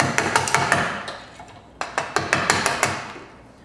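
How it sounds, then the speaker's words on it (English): Chisel cutting timber for a cross halving joint, a series of sharp close taps and knocks in uneven bursts, some faint and some louder, with brief pauses between strikes. "chiseling upwards"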